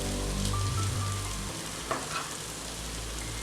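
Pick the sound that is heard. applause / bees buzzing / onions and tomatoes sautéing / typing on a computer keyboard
onions and tomatoes sautéing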